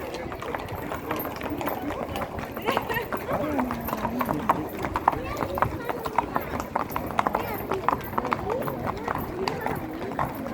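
Horses' hooves clip-clop steadily along the street during the Tres Tombs parade in Vilanova i la Geltrú, a continuous rhythmic clatter of many hoofbeats with people chatting over it.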